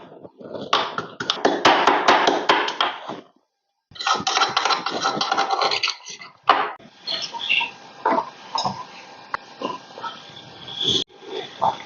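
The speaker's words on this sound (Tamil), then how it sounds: "இதில் ஒரு சின்ன வெங்காயம் சேர்த்துருக்கேன் ஒரு மீடியம் சைஸ் பல்லுள்ள பூண்டு சேர்த்துருக்கேன் இதை நல்லா இடித்து எடுத்துக்கலாம்" Small shallot and a medium-size garlic clove pounded by hand, heard as bursts of dense, rapid thudding and crunching strikes with short pauses, close and fairly loud, with no talking.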